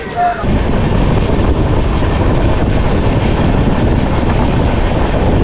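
Kandari Express pulling into Tamluk station, a loud continuous rumble of the train filling the whole stretch with steady rolling rail noise, a brief squeal at the very start.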